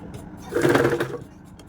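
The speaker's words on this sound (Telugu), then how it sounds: "ఇప్పుడు ఇలా కుట్టుకోవాలి" Sewing machine stitching a folded hem on a child's frock, a brief burst of whirring motor that swells for about half a second and then fades back into quiet room noise.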